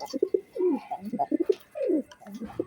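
Several Budapest racing pigeons coo close by, with repeated low throaty rolling calls that overlap in bursts, and faint chirps sit above them.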